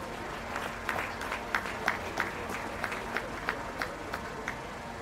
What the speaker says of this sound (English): Let's give this young lady a round of applause, please.